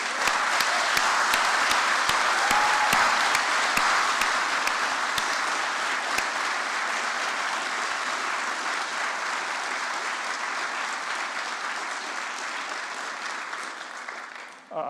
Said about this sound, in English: could we just give a round of applause to everybody that helped you get here?